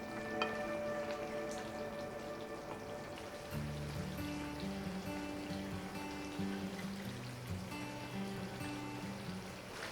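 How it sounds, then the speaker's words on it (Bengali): Chicken curry frying on a high flame in a pan as its released juices cook off, a steady crackling sizzle throughout, joined by low humming tones partway through. "20 মিনিট পর ফ্লেম বাড়িয়ে পুনরায় হাইয়ে করে কষিয়ে কষিয়ে চিকেন থেকে বেরোনো জলটা"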